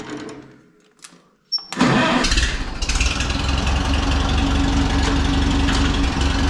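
Small gasoline engine used for cutting wood, a hard starter, catches after a sharp pull and settles into a loud, steady rough idle close by.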